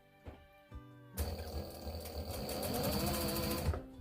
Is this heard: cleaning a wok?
no